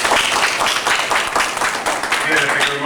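Debate audience breaking into a dense burst of clapping that holds steady for a few seconds, loud and close, with a voice faintly audible underneath.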